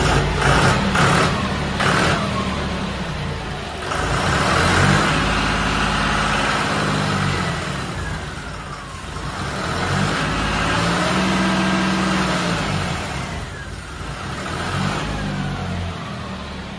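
A tractor engine running loud and close, with a rough diesel rumble that swells and dips in repeated revs over a steady idle, and no voices.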